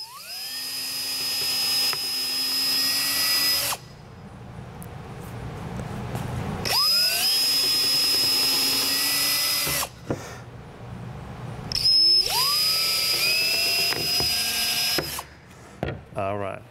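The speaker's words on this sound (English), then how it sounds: "And all I want to do is drill." A power drill bores into a piece of wood in a scrollsaw woodworking shop, running in three long, steady, whining bursts that wind up and cut off, loud and close, with short pauses between them.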